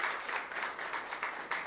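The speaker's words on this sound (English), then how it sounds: "Let's give them a round of applause" Audience members at the Caribbean Education Innovation Forum clap for the presenters, a brief, faint patter of scattered hands with a few louder individual claps and no talking.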